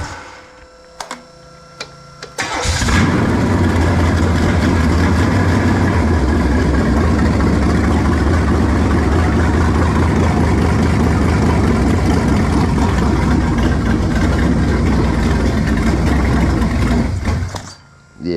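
A car engine fitted with a two-barrel carburetor starts after a few seconds of quiet clicking, then runs at a loud, steady idle for about fifteen seconds before cutting off near the end.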